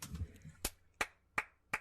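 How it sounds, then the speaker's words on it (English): A slow clap: five or six single hand claps, spaced roughly every third of a second, fairly close and quiet, with faint low murmuring at the start. "I know, slow clap."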